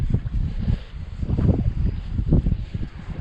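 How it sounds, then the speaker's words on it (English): Strong, relentless wind blows across open water, producing a loud gusty rumble and buffeting against the microphone that rises and falls in waves, with no talking. "Just that wind is just relentless."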